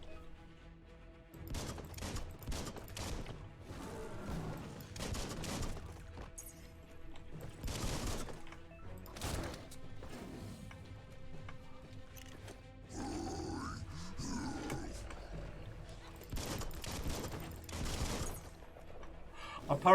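Bursts of gunfire in a Max Payne–style action game, loud broadband shots scattered across the scene amid grunts and game noise, with a voice talking now and then.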